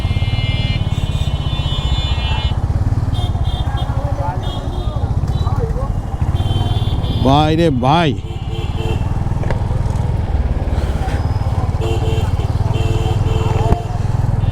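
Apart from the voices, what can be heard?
Royal Enfield Hunter 350 motorcycle engine riding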